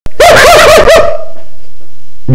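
A man imitates a dog with his voice, giving four quick loud barks in a rapid burst, close to the microphone, followed by quiet.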